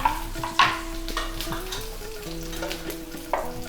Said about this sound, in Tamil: கட் பண்ண கத்திரிக்காயும் சேர்த்துடலாம்.